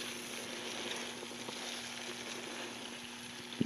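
Fermenting blueberry mead fizzes with tiny carbon dioxide bubbles after the lid comes off, a faint, steady crackling hiss heard close up over a low electrical hum.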